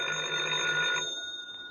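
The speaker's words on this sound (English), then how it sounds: "Oh, the phone again." An old-fashioned telephone bell rings once in a sustained metallic trill, then stops abruptly.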